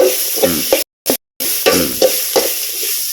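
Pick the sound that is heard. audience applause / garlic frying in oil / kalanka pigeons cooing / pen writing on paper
garlic frying in oil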